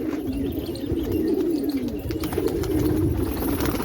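Pigeons coo in a low, steady murmur throughout, with several birds calling close by and a few faint chirps mixed in, and no talking.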